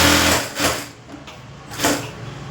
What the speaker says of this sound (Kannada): ಸ್ಟಿಚಿಂಗ್ ಹಾಕ್ಕೊಳ್ತೀನಿ.